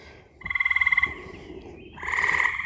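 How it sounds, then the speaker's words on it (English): Tree frogs croak in a fast, rhythmic pulsing chorus, followed by a louder, sustained trilling call, close and clear against a quiet outdoor background. "I think these tree frogs agree."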